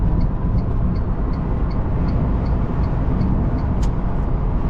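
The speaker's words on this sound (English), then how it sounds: "It's loud on the highway. Bunch of wind noise." A constant loud roar of wind and tire noise fills the cabin of a Tesla Roadster at highway speed, with a faint periodic ticking above it.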